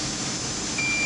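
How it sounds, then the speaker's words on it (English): A breathalyzer gives a single steady high beep after a breath test during a roadside DWI stop by an Arkansas state trooper, fairly faint and lasting about a third of a second over a constant background hum. "Once you hear that beep, you can stop blowing"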